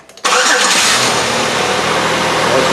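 A 2003 Chevrolet Impala engine cranks and catches after a brief quiet moment, then settles into a steady, loud, close-up idle.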